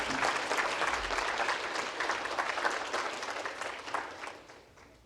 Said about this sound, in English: Big round of applause for Danette, please.